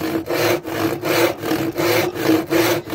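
Steady, rhythmic one-handed hand sawing through wood for a bee project, close and loud, about eight even rasping strokes with short breaks between them.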